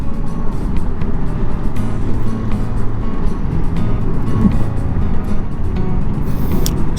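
A motorcycle rides downhill over a bridge between Arlington and Fort Worth, its engine a constant loud low rumble with steady wind roar, heard close up from the rider's position throughout, with no voices.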